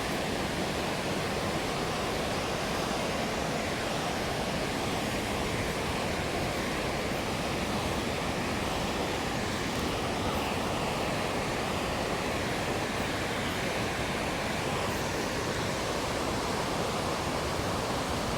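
Water pours over the bund of Unnichai reservoir in Batticaloa after an unexpected rise in water level. It makes a loud, continuous rushing roar, dense and unbroken from start to finish, with no voices.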